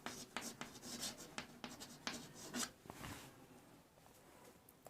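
Pen strokes scratch across paper as a math solution on determinants is written out, a quick run of close, crisp scribbles and taps that trail off into quiet room noise.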